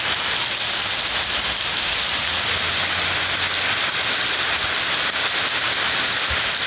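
Heavy rain pours down steadily in a Tamil Nadu downpour, a dense, unbroken hiss of water drumming on surfaces that holds an even, loud level from start to finish with no voices.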